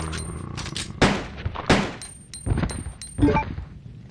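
Gunshots from the Resident Evil 2 video game, several sharp, spaced reports fired at a zombie that is on fire, each a sudden loud crack with brief decay, separated by quieter gaps.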